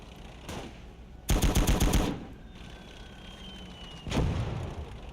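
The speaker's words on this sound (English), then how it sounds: "I'm hoping that's my mortar and not an enemy mortar." Mortar fire in the Gates of Hell Ostfront video game: two heavy, deep booms frame a rapid, loud burst of rhythmic gunfire, with a faint high whistle trailing through the quieter stretch between.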